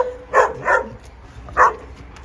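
Dogs at a shelter barking, three sharp barks: two close together, then a single bark after a short pause, loud and near against a quiet background.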